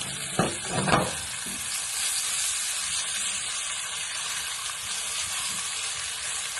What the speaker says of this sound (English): I'm frying it just enough for it to get done. Put some more grease in there.